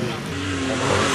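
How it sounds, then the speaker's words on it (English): Ford RS200 rally car on a track on the Isle of Man, a steady loud engine drone with a rising pitch held throughout, close and continuous, with a voice talking over it. "So there we are, Nigel Mummery in the RS200."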